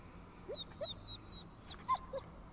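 Dog whimpering in the video game Guardians of the Galaxy: a series of soft, high whines and short yips, quiet and intermittent, with a slightly louder cluster near the end.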